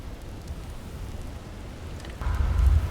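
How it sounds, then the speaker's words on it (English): Rainstorm in the video game God of War Ragnarok, a steady hiss of rain with low rumbling that swells louder near the end, no voices. "Over a storm like this?"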